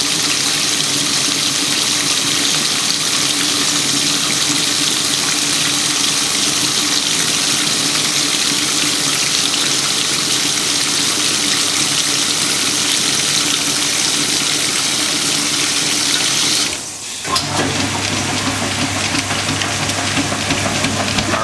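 A Whirlpool or Maytag washing machine, front panel removed, fills with water and rinses, a steady loud rush of flowing water that continues throughout, with a brief dip near the end before the flow resumes.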